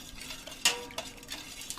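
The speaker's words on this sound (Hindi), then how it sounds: "घोल लेंगे फिटकरी को।" A spoon stirs a spoonful of alum into water in a pot, giving faint, quiet scrapes and light clinks of metal against the pot, with no talking.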